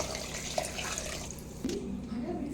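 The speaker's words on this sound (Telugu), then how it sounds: "ఇప్పుడైతే వాటర్ పోసుకుందాం" Water poured from a vessel into a cooking pot of rice and dal for pappu annam, a steady close splashing trickle under a faint voice toward the end.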